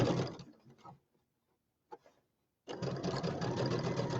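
A Baby Lock Luminaire sewing machine stitches in two bursts: a brief run at the start, a pause with a small click, then a steady, close rapid whir of needle strokes to the end, with no talking.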